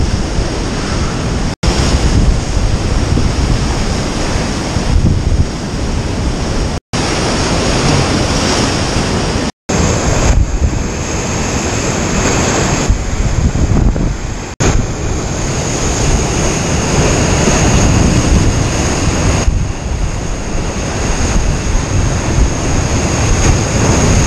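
Sea waves wash against rocky cliffs in a loud, continuous roar of surf and backwash with heavy wind buffeting the microphone, and a few sharp dropouts break the sound.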